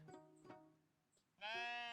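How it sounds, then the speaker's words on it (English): Sheep bleating in the video game Cities: Skylines 2, two short close bleats followed by a longer, louder wavering bleat, with no talk. "Oh, look at that sheep."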